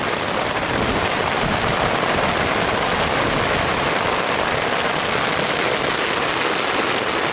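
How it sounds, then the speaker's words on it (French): Hail drums steadily on tarps stretched over a camp during a thunderstorm on a hike, a dense unbroken hiss and patter that stays loud and close throughout with no voices. "Il y a un peu de grêle qui tombe."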